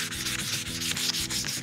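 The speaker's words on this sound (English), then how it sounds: "You can follow up again by just lightly scuff sanding in the direction of the grain" Lightly scuff sanding a wood surface along the grain to knock down nibs before staining, a close, steady back-and-forth rasping rub in quick strokes with no voices.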